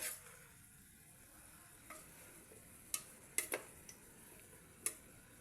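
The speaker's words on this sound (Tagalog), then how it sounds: "Igisa muna." Vegetables for chopsuey sautéing in a small, crowded pan give a soft, steady sizzle, broken by a few sharp utensil clicks and scrapes against the pan.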